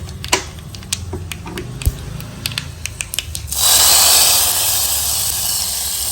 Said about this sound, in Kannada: ಇವಾಗ ಒಗ್ಗರಣೆ ಚಟಪಟ ಅಂತ ಸಿಡಿಯೋದಕ್ಕೆ ಸ್ಟಾರ್ಟ್ ಆಯಿತು